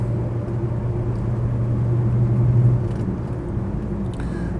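A Rover P6 3500S with a manual gearbox pulls uphill in fourth gear on a steep climb, giving a steady low engine drone and road rumble heard from inside the car throughout.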